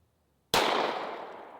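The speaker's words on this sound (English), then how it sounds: "We're gonna hit one cinder block with 45 and one cinder block with 10 mil." A single sharp, loud .45 ACP pistol shot strikes a cinder block, a sudden crack after silence that decays into a lingering outdoor ring.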